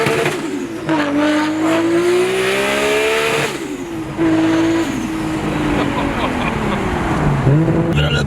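An 1100-horsepower RB26 engine in a Nissan Skyline R34 GT-R revs up and down repeatedly on the street, its pitch rising and falling with a loud, rasping tone and some background noise.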